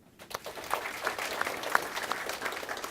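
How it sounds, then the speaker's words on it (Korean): An audience at a lecture hall in Korea claps together in a sustained round of applause, a dense patter of many hands that stays fairly even for several seconds. "박수 한번 주세요."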